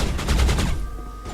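Rapid gunfire from a weapon fitted with an explosive shot upgrade in the Mass Effect video game, a short loud burst of several closely spaced shots that trails off quickly.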